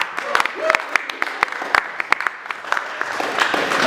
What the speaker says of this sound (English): Give it up for Begué.